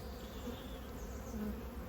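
Honeybee colony in an open hive during a spring inspection, a steady close buzzing hum from many bees that stays even throughout, with no talking.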